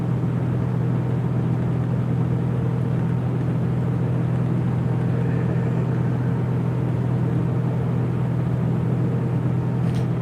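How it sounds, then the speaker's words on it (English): Steady low engine drone and road rumble fill the inside of a moving bus from New York, continuous and even throughout with no talking. "We're on a bus right now."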